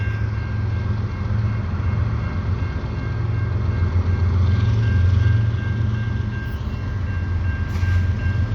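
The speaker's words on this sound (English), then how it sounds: "Looks like I got a CN freight train here at Des Courcelles Street." A CN freight train rolls slowly eastbound through the Des Courcelles Street crossing, its steady low engine rumble and wheel noise loud and close throughout, with a faint tonal hum above.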